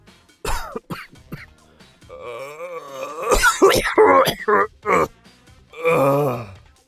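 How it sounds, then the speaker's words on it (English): A few harsh coughs and throaty groans, close and loud, spaced out over several seconds with strained breathing between them. "And I'm starting to cough more."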